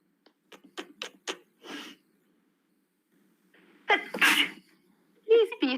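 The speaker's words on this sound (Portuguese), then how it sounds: "Espirra para finalizar." Several short sniffs and breaths, then a strong, close sneeze after a pause, followed by a brief vocal sound.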